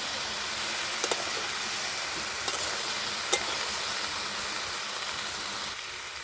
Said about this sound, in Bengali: ঢাকনাটা খুলে আমি আবার নেড়ে ছেড়ে দিচ্ছি একটু।